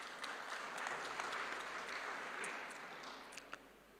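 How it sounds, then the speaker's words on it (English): Audience applause at a sugar industry congress panel discussion, a steady wash of many hands clapping at moderate distance, sustained evenly throughout with no voices. "Can we give her a round of applause"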